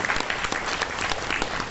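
An audience at a stage drama performance breaks into dense, even applause, many hands clapping continuously for a short burst at a moderate distance.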